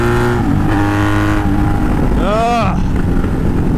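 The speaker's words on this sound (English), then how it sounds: "I didn't just hop on this thing to let this bike fucking rev for no reason" A motorcycle engine idles with a low steady rumble, then rises and falls in one quick rev near the end, loud and close.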